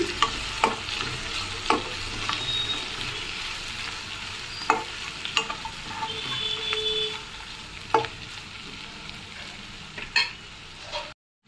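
Mutton fry sizzles quietly in a pan as cumin and coriander powder are mixed in, with repeated scraping taps from a spoon stirring against the metal.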